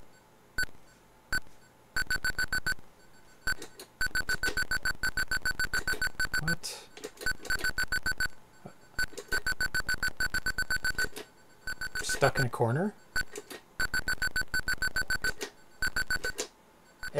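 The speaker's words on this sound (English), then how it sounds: "Every direction is massive beeping." Warning beeps from an Atari 8-bit maze game sound near the walls, coming in rapid repeated bursts that stop and start, with a short spoken phrase in the middle.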